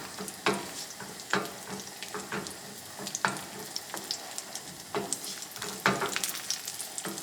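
Cashews and raisins sizzle and crackle in hot melted ghee in a pan for sweet pongal, with a steady frying hiss broken by sharp stirring scrapes that recur every second or so, close by and without speech.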